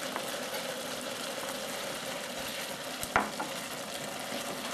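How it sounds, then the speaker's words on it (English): Thai prawn vermicelli noodles with tomatoes and chives are stir-fried in a pan, giving a steady, close sizzle with scraping stirs and one sharper clatter midway; no one speaks. "keep stirring it until the rest of the ingredient cooked"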